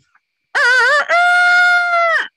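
A human voice imitates a rooster's crow, one loud drawn-out cock-a-doodle-doo with a wavering start, a brief break, then a long steady held note trailing off, heard alone.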